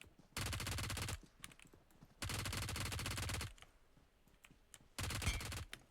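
Gunfire in PUBG Mobile on the Livik map comes as three loud bursts of rapid automatic shots, each about a second long, separated by quieter gaps.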